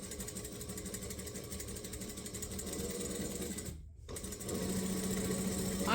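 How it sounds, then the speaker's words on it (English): A sewing machine top-stitching an eighth of an inch along the top edge of an apron, a steady close mechanical hum and chatter, broken by a brief pause before stitching resumes. "I'm going to top stitch an 1/8 of an inch along the top edge"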